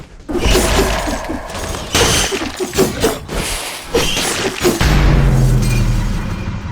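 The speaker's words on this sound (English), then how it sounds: "bloody explosions, sword swiping," Video game sound effects: a rapid series of loud explosion booms, crashes and shattering impacts, with sharp sword-swipe swishes between them and a heavy rumbling blast toward the end.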